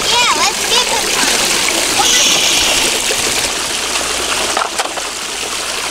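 Water splashes and trickles over a Bruder toy dump truck sitting on ice outdoors near a frozen waterfall, a loud continuous spattering and gushing rush with a child and an adult talking over it.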